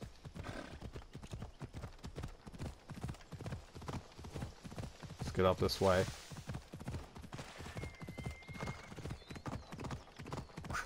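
Horse hooves pound in a fast galloping rhythm in the video game Assassin's Creed Odyssey while someone talks over them; a short whinny rises midway.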